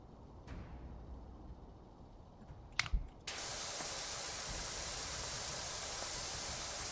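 A pressure washer fitted with a soap nozzle bursts into a loud, steady hissing spray after a quiet start and a couple of brief clicks, then holds constant and close until the end.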